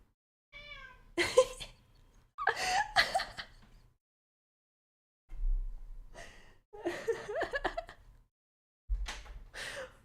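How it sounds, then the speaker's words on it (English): Several short cat meows come in separate bursts with brief pauses between them, close and fairly quiet. "Meow. Meow."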